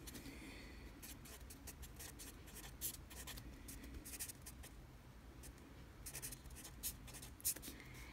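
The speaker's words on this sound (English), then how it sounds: "And then I'm going to write my rule." A pen scratches across paper in short bursts as a math formula for a coordinate midpoint is written out by hand. The sound is close and quiet, with brief pauses between strokes.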